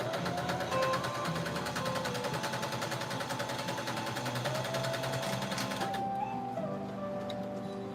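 Sewing machine stitching fabric for a doll dress, a fast steady mechanical chatter that runs loud and even for about six seconds before stopping abruptly, leaving quiet room noise.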